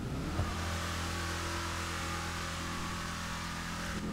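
Car engine in a casino-themed racing game, fitted with a big-bore exhaust, holds a steady, continuous rev with a deep droning tone for several seconds, with no talking.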